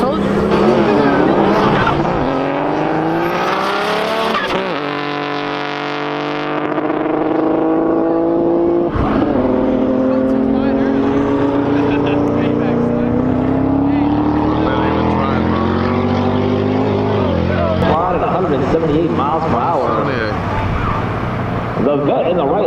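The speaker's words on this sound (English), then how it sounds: "Mustang GT40 up next in the right lane, making the solo pass." Ford GT40 race car making a solo drag strip pass in the right lane, a loud engine rising in pitch through several gear changes and fading as it speeds away, with an announcer talking over it.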